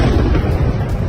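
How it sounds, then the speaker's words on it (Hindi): Explosions go off at a weapons facility in Lutsk, Ukraine, struck in a Russian drone attack. A loud, continuous blast rumble fills the whole short moment, with no voices over it. "वेपन फैसिलिटी में सुने गए 3 धमाके।"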